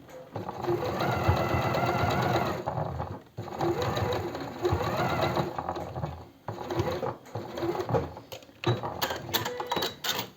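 A sewing machine runs a straight stitch along a seam on a blouse made of eyelet fabric, loud and close, with a steady whir in bursts broken by short pauses and small mechanical clicks toward the end.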